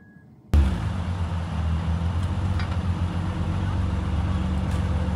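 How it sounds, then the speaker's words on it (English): A Honda Ridgeline pickup with a Magnaflow exhaust starts up after a quiet moment and settles into a steady, low idle rumble, close by and alone. "I have a exhaust system on here. It is a Magnaflow exhaust."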